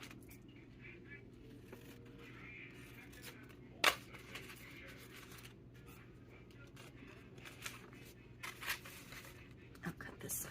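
Scissors snipping paper for a junk journal, soft close cuts scattered over a quiet room tone, with a few sharper snips and low speech at moments.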